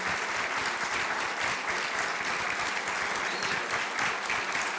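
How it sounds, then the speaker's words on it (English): A warm round of applause from the audience at a breakfast event as the sponsors stand, a thick, even roar of many people clapping that stays steady throughout. "receive a warm round of applause"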